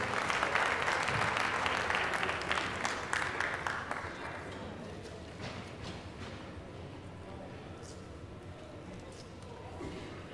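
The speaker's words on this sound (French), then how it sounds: "Fin de la troisième et dernière reprise, on peut les applaudir." A boxing crowd applauds at the end of a fight's final round, with dense, loud clapping that fades after about four seconds into a lower murmur of crowd noise.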